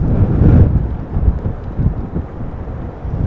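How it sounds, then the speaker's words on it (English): Gusty wind buffets an outdoor microphone at Amsterdam Schiphol Airport during Storm Pia, a loud, continuous rumbling roar that surges at the start and keeps churning throughout. "It is a tad breezy, Colin."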